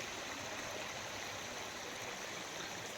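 Water rushes steadily along a channel beside farm fields that drains into the Godavari river, a dense, continuous hiss and gurgle heard close up with no voices.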